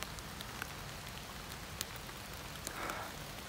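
Rain falls steadily in woodland in August, a soft constant hiss with scattered patters and drips, faint and even throughout.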